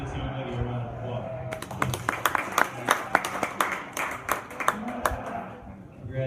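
A crowd at a livestock fair show claps for a young exhibitor with a purebred Dorset ewe lamb, the dense applause starting suddenly and continuing steadily, with talk underneath.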